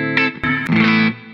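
Distorted electric guitar played through a Fender Deluxe Reverb's power section, with Marshall preamp modeling shaping the drive, a few loud chords and single notes that ring briefly and then cut off sharply.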